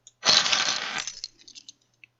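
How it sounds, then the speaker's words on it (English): Keys are picked up with a quick bright metallic jingle and rattle, close and loud, trailing off into a few small clinks within about two seconds. "Picking up keys."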